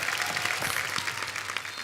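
Dense, continuous studio audience applause at a Hindi comedy talk show, loud and steady throughout the short stretch with no talking over it.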